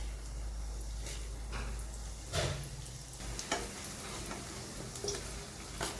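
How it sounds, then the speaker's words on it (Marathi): Roasted, finely ground mustard seed being stirred in hot oil, a soft steady sizzle with scattered clicks and scrapes of the spoon against the pan, close and fairly quiet. "आणि मोहरी मी ही अशा पद्धतीने तेलात परतत आहे"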